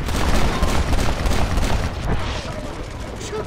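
Dense gunfire fills a Red Dead Redemption firefight, loud and continuous with booming shots layered under shouted speech throughout.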